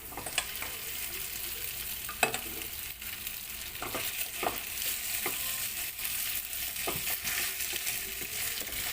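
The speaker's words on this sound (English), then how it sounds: "We have to put our beef pieces." Beef pieces sizzling steadily in a hot pan for a stir fry with broccoli, with scattered sharp scrapes and clacks of a utensil stirring through the constant frying hiss.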